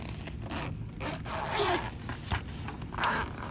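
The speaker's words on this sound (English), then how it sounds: "Set down, unzip it." The zipper on a soldering iron kit's leather-like carrying case is pulled open in a long, steady rasping run, with a few scraping pulls close to the listener.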